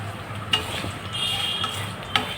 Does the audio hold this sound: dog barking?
no